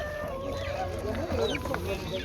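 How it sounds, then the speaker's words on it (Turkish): Several chickens and roosters cluck and squawk close by in a busy, overlapping chorus at a poultry market in Çubuk, Ankara, with a voice heard faintly among them. "Şöyle horozlarımız var."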